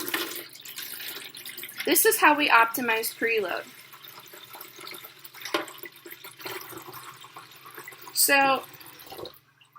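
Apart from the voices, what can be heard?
water being poured into a fish tank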